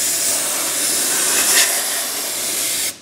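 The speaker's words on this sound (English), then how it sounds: "Simply apply air pressure" Compressed air blasts out the filter of a welding fume extractor, a steady loud broadband hiss lasting about three seconds before cutting off abruptly.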